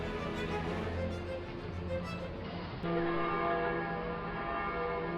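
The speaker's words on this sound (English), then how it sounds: "you can hear the church bells tolling its noontime" Church bells in Germany toll noon, ringing steadily with overlapping, sustained tones, moderately distant and continuous throughout, with no talking.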